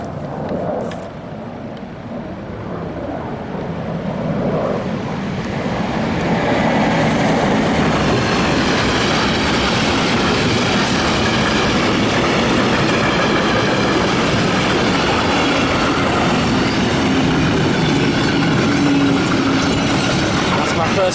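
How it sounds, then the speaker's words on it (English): A German freight train rolls past near Frankfurt, its loud rumble building over the first seconds into a steady roar of wagons and rhythmic wheel clatter that holds close and continuous to the end. "First bit of German freight caught on camera."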